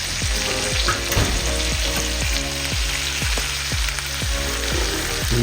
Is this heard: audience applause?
no